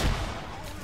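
A frag grenade goes off in the Arma 3 video game, a single loud, booming blast that hits at once and then rolls off into a rumbling tail within a second.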